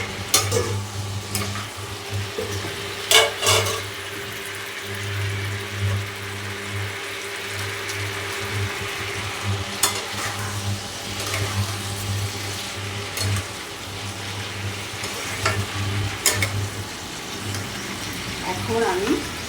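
Spiced potato curry scraped and stirred in a pan as a garam masala blend is worked in, with repeated scrapes and clinks over a low, steady background hum.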